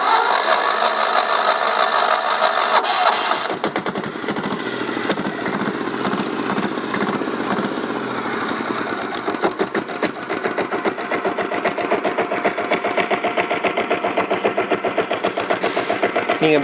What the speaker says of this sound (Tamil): வாங்க இப்போ அந்த வண்டியை செல்ஃப் போட்டு ஸ்டார்ட் பண்ணலாம் வாங்க